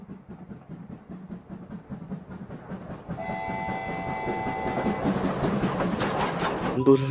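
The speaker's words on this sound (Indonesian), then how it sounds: "Ini ada kereta Thomas teman-teman." A Thomas toy train rolls along with a steady rattling rumble, and a sustained whistle-like tone sounds for a couple of seconds midway, close and fairly loud with no talk over it.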